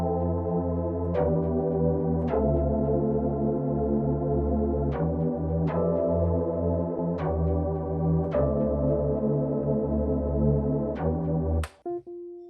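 Layered synth chords pitched above matching bass chords in a hip-hop and R&B production, sustained and sounding together, changing every second or two in a steady progression before cutting off abruptly at the end.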